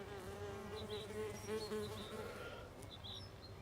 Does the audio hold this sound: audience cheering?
no